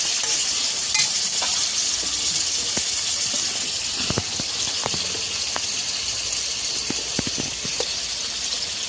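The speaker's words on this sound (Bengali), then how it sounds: "চিকেনটা দিয়ে একটু নাড়িয়ে নেবো" Chicken pieces fry and get stirred in a hot pan for a Bengali chicken dish, a loud continuous sizzle with intermittent scraping and clicking of the spatula, no talking.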